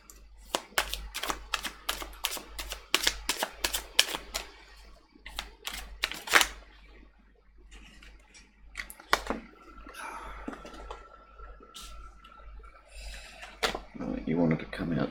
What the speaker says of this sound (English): always shuffle them again before I start